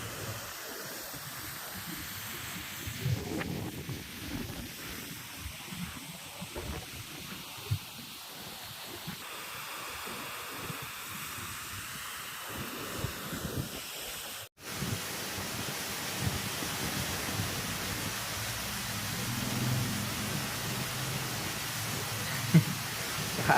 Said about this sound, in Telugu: ఇది చాలా మంచి జలపాతం ఇది.